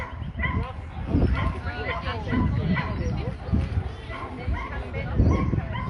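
Dogs at an Australian national dog show bark and yip intermittently in a noisy hall, mixed with constant crowd chatter and nearby talking.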